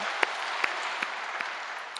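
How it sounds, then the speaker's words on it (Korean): Church congregation claps in praise after the Lord's Prayer, a soft, even wash of applause with a few sharper individual claps standing out. "주님께 영광의 박수 돌립니다"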